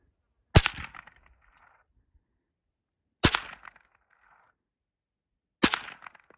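Three sharp, loud rifle shots from a small game sniper rifle ring out outdoors, each a single crack trailing into a short echo, spaced a few seconds apart with no talking.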